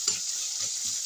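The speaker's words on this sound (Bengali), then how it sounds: "এটা এবার একটু নাড়াচাড়া করি।" Food fries in a pan with a continuous hiss, and a spatula stirs it in three quick scraping strokes up close.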